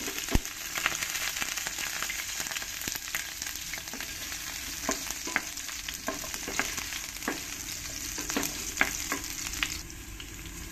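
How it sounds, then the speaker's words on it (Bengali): Cut potatoes frying in hot smoking oil in a pan, a steady broadband sizzle with scattered crackles and pops and occasional stirring scrapes, close and continuous throughout without any talk. "এই আলুগুলোকে একটু ভালো করে লাল লাল করে আমি ভেজে নেব।"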